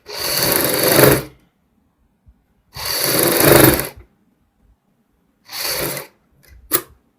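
Sewing machine stitching buckram along a kurti neckline, running in three separate bursts of steady dense whirring, each about a second long, with a short click near the end; no talk.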